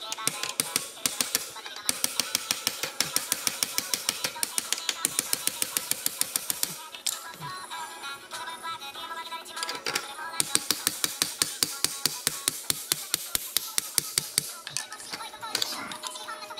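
A rubber mallet hammers on the front tire of a Sur-Ron Light Bee electric dirt bike during a tire change, delivering fast, sharp, regular strikes in long runs with a short pause midway, close and loud.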